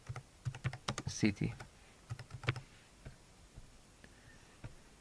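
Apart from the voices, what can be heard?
typing on a computer keyboard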